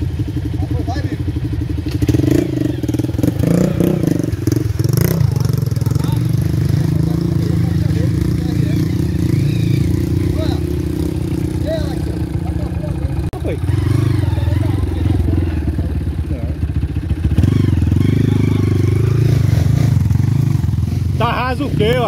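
Motorcycle engine running loud and close as a rider pushes through water on a trail ride, a steady low drone with splashing clatter and thumps, while people talk over it throughout.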